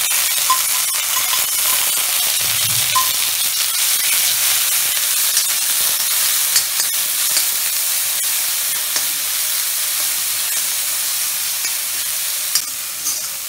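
Grated onion hits hot oil with garlic in a pan over a high flame, giving a steady, close sizzle and frying hiss for the whole stretch, with faint stirring underneath and no talking.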